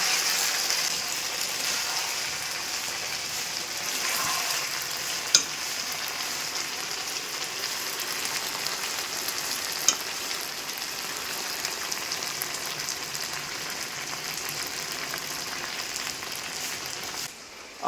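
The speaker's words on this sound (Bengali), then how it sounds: "মাংস দিয়ে আলু দিয়ে রসুন দিয়ে কষানো হচ্ছে সুন্দর করে" Meat, potato and garlic sautéing in a pan, a dense, even hiss of frying that holds steady throughout, broken by two brief sharp clicks, with no one speaking.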